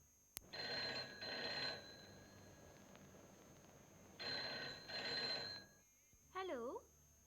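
A telephone bell rings in two long bursts in a Hindi radio drama, loud and close, with a short warbling sound after the second ring.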